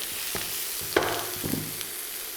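Miso paste is stirred through a cauliflower and butter bean mash in a pan: soft close scraping strokes and small clinks of a utensil over a light steady sizzle, no talk.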